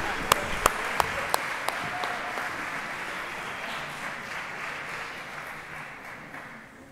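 A large crowd at a school academic awards ceremony applauds steadily, a few sharp, louder claps standing out near the start before the clapping thins slightly toward the end.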